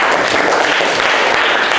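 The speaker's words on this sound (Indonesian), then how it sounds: "Beri aplaus untuk kelompok 1." A classroom audience claps for a presenting group, a steady, dense patter of applause throughout.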